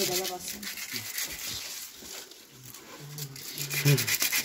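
Rough scratchy rubbing of sandpaper on bicycle paint, scraped back and forth in uneven strokes while people talk over it.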